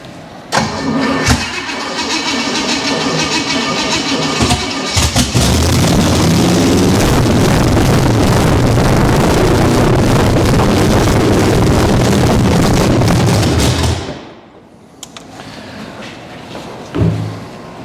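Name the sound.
junkyard motor cranking on first start attempt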